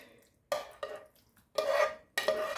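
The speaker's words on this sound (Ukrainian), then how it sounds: "І гарненько все перемішаю" Vegetables frying in a metal pan are stirred in several short scraping bursts of a utensil against the metal, separated by brief pauses.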